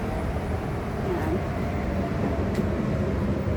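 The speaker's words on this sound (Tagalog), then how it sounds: "Yan yung MRT guys sa taas." An MRT metro train runs along the elevated track overhead, making a continuous broadband roar and rumble that drowns out the street below.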